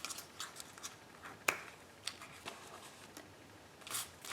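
Scissors trimming the ends of paper for a handmade friendship book: a few soft, quiet snips and crisp ticks scattered over a faint background.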